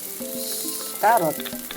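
Carrot hits a pan of frying leftover rice with bean sprouts and shrimp, a steady close sizzle that swells into a louder hiss with faint stirring scrapes.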